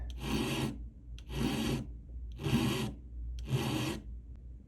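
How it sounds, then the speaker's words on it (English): Four long rasping strokes of a hand file on the corners of a handmade emerald cut bezel for a three-stone ring, evenly spaced and close, each stroke a steady scrape with short pauses between. "I just finished filing the corners"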